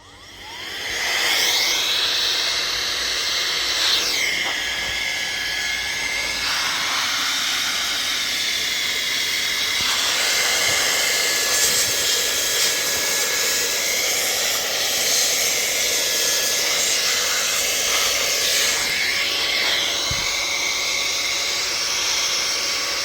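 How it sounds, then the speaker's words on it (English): A Hoofun electric air duster blower running steadily outdoors, a loud continuous high-pitched whirring hiss with slight shifts in pitch as it is moved, sustained for over twenty seconds with no talk. "you probably won't be able to hear me once I get outside because of the noise from the blower itself"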